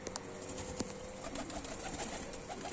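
Runaway pigeons coo softly nearby during an attempt to catch them, with a few faint calls and light rustling in a quiet, distant-sounding setting.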